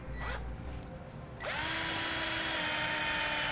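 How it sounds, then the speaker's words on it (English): Power drill with a small bit boring a pilot hole into the steel frame rail of a 2014 Ford Edge for a Draw-Tite trailer hitch, a brief start followed by a loud sustained whine that rises and holds steady, close up. "We'll use a small drill bit right in the center of the hole"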